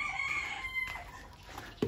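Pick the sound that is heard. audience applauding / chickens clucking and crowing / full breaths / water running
chickens clucking and crowing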